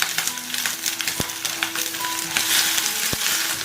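Shrimp heads hit hot oil already fragrant with ginger slices, giving a steady close sizzle with a couple of sharp clicks and spatula taps on the wok.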